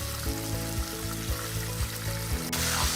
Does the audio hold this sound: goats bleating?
no